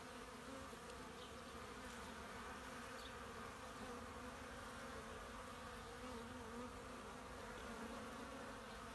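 Honey bees fly around their hive outdoors, making a steady, even buzzing drone that is faint and continuous throughout, with no voices.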